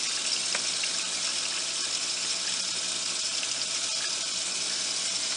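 Water pours steadily from a reef aquarium line while GFO and carbon media are being changed, a constant hissing gush close by with no talk.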